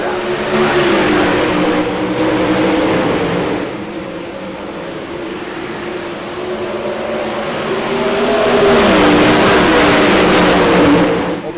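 A pack of 360 sprint cars roaring through a heat race in the RPES Hinkle series, loud engines rising and falling as they pass close, with a strong surge near the end.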